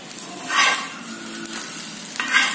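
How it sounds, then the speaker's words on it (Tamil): Egg kalakki stirred in a pan over a medium flame, restaurant style, gives two clear scraping swishes a couple of seconds apart over a soft, steady sizzle, close and alone. "இது அப்படியே இந்த லிக்விட் வெளியில் வர்ற வரைக்கும் இப்படி சுற்றி விடணும்"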